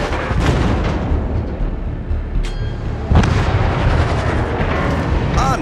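Artillery fire in a naval warfare video game, set at the battle of Lepanto: a continuous loud barrage of booming gunfire with sharper blasts standing out near the middle, thick and dense throughout with no pause.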